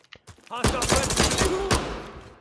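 Five-seveN pistol fire in the shooter game Incursion Red River, a rapid string of sharp, loud shots in quick succession following a few quieter clicks at the start.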